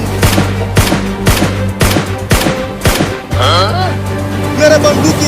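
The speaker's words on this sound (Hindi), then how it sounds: "गोली मार तो रहा हूँ।" Gunshots are fired at a mermaid fish in a comedy sketch: a steady series of about seven loud, evenly spaced shots rings out up close, followed by warbling effects and some voices.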